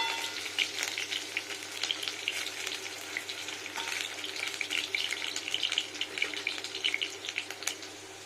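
Potato pieces fry in oil over low heat for a cabbage curry, giving a dense, even hiss and crackle with tiny bubbling pops. Nothing else is heard.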